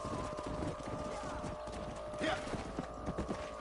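Horse hooves clip-clop in the video game Red Dead Redemption, a steady soft patter of several horses under background game sound, with a brief spoken word.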